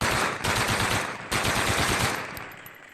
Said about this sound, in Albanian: 2 dekada më vonë sërish në Shqipëri festohet me breshëri armësh.